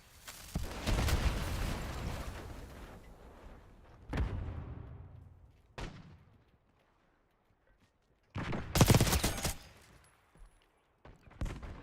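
Gunfire in Call of Duty Black Ops 6, loud bursts of shots with a sustained volley at the start, a lone crack, then another heavy burst, separated by near silence.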